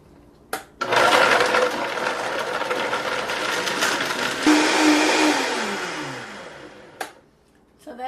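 A high-powered blender whirs through vegan cashew mozzarella, starting with a sharp click, holding a loud steady roar for about six seconds, then winding down with a falling pitch before a final click.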